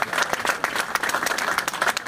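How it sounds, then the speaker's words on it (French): A crowd at a boat show inauguration in Cap d'Agde applauds the sailor Isabelle Autissier, dense, continuous clapping from many hands, fairly loud and close, with no talking. "vous pouvez l'applaudir parce que c'est impressionnant."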